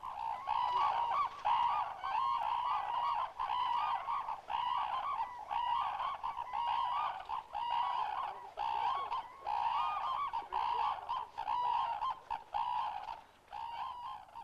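Cranes calling raucously in Japan, a dense, continuous chorus of loud honking and trumpeting cries that overlap steadily throughout with no pauses.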